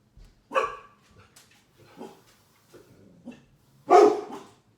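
Several dogs bark in short separate bursts, one near and loud at the start and again at the end, with fainter yips and whimpers between them against an otherwise quiet room.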